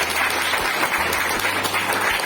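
A crowd at a local political meeting in Chauhan Banger breaks into steady, dense applause, with many hands clapping together in a continuous wash of sound from start to end.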